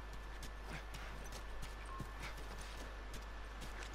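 Horses in The Last of Us Remastered clop along in a quiet, steady run of hoof beats, faint against a constant low hum, with no talking over them.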